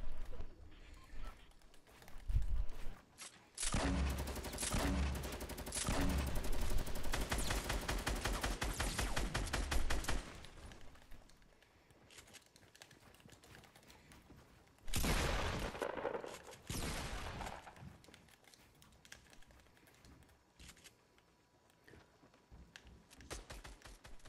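Rapid bursts of automatic gunfire from a Fortnite match, loud and dense in two main volleys with quieter scattered shots and clicks between, no speech.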